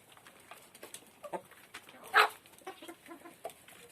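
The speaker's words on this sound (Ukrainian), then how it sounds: "Гамають мої курочки, мої дівчинки" Backyard hens, a flock of over thirty with two roosters, cluck softly and intermittently while being fed, with one louder squawk midway among quiet scratching and shuffling.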